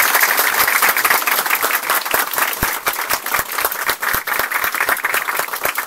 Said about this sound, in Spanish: Así que un fuerte aplauso para el maestro.